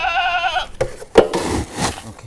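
Goats in a farm herd tended on weekends bleat in a few short wavering calls, one clear harmonic cry near the start and rougher bursts after, fairly close, with no talk.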